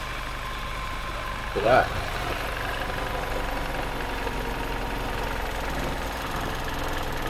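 An engine idles steadily after a part is taken off, a constant low running hum with a short louder sound early on, close by, while someone speaks briefly over it.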